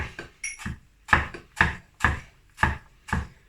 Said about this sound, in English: And then I'm gonna just kind of chop them.